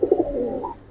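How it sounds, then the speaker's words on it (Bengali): Healthy, active pigeons give a short, close coo, a soft rolling call that fades after about a second with nothing else around it. "একদম সুস্থ অ্যাক্টিভ কবুতর।"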